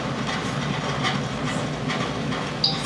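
Arkansas & Missouri Railroad passenger car rolling along the rails toward a trestle: a steady, close rumble with faint rhythmic clatter and a soft hiss throughout.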